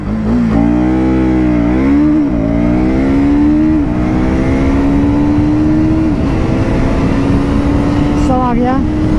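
KTM Duke motorcycle, 2026 Duke 200 or 250 in track mode, launching hard: the engine revs up through rising, gear-stepped pitch sweeps, loud and close, with a few brief dips between gears over continuous engine roar.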